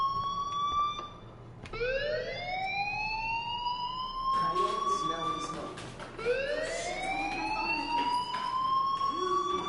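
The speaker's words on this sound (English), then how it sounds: "do you hear that fire alarm? That means you should be outside." A fire alarm in the video game Life is Strange wails in repeated rising sweeps, loud and piercing, each rise holding before dropping and starting again, with some faint background voices.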